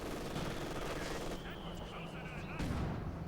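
Mortar and gunfire from the Company of Heroes 2 strategy game, a dense continuous barrage of distant blasts and crackling shots with a louder burst near the end, mixed under game audio.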